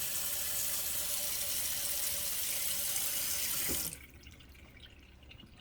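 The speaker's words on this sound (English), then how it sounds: "we're simply going to put water right here so that it has to go through the water filter" Water pours steadily from a tap into a Great Value filter pitcher, a close, even rushing splash that cuts off sharply near the end and leaves faint drips and room quiet.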